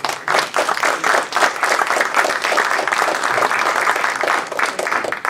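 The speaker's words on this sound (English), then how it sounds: "Another applause for Brian." Loud, full applause from a meeting audience at an astronomy club gathering, many hands clapping densely and steadily for several seconds, close and continuous with no speech on top.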